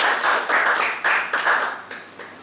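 A small meeting audience claps for a speaker, a brief burst of close hand claps that thins out and stops within a couple of seconds.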